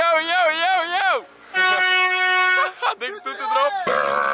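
A loud horn honks in several long and short blasts, close by at the Defqon.1 festival, with people's voices and cheering between the toots.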